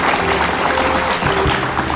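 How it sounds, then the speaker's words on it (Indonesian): Studio audience on an Indonesian television talk show breaks into loud, steady applause that carries through the whole moment with no voices on top. "kasih tepuk tangan dulu buat mereka berdua"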